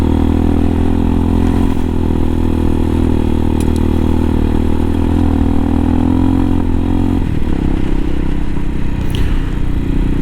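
A 2020 CSC TT-250 motorcycle engine runs while riding along in Fortuna, California, droning loudly and steadily with a low throbbing hum and wind rush, the pitch shifting briefly as the revs drop and rise again.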